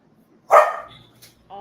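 A dog gives a single loud, close bark that trails off, followed by a short yip and then brief rustling.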